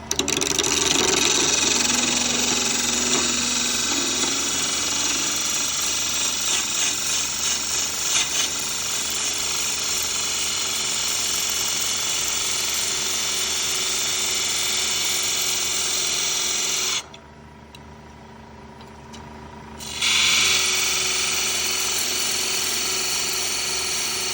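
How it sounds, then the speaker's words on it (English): A wood lathe spins a box lid blank while a parting tool cuts a recess, giving a steady motor whine with a scraping cutting texture; the tone drops out briefly for a few seconds, then resumes at full level. "So we're going to take a parting tool and start a recess for the lid"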